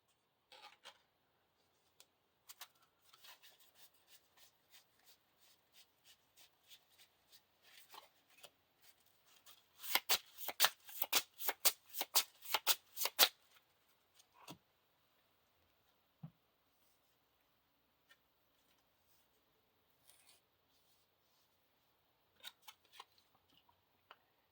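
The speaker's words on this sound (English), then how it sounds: "Shuffle the encounter deck." A deck of playing cards from a Lord of the Rings card game is shuffled at close range, giving sparse light clicks and riffles that build into a dense burst of rapid flutter in the middle and then trail off into occasional taps.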